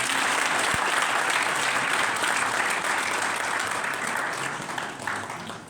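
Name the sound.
applause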